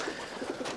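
Racing pigeons in a loft give a brief, soft cooing call, close by and low in level.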